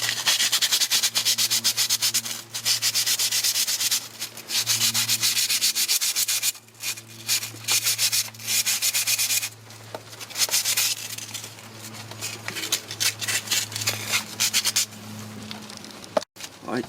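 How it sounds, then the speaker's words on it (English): A brake caliper locking pin from a 2000 Toyota Tacoma is sanded by hand, a steady close rasping scrub in repeated strokes with short pauses and a sharp knock near the end. "before we put this locking pin, we need to sand it"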